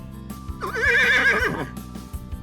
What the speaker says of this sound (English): Horse stable.